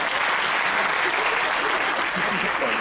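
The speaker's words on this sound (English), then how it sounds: "round of applause to you" Lecture-hall audience at a leadership talk giving a round of applause, dense steady clapping from many hands filling the room, loud and continuous throughout.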